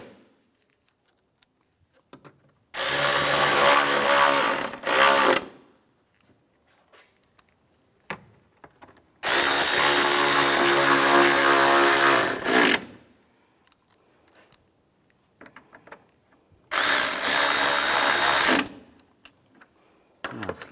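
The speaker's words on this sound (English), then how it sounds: "Now I'm going to put these screws in and tighten them down." A power drill whirs in three separate bursts of a few seconds each, driving screws while a starter is replaced on a 2004-2010 BMW X3, with quiet handling noises in the pauses between runs.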